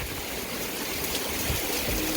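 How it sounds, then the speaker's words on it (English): Heavy rain pours down outdoors in a steady, dense hiss that stays constant throughout, with no voices. "It is pouring."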